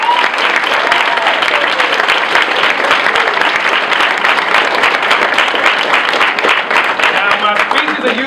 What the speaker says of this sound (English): clap it up for yourselves for being here